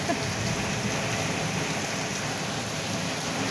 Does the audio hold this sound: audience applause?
no